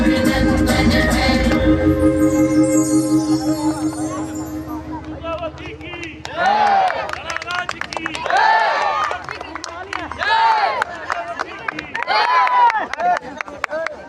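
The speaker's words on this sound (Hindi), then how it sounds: "जोरदार तालियां" Audience applause after a stage performance about Rani Durgavati, starting with music that fades, then a crowd clapping in waves while someone speaks over the clapping.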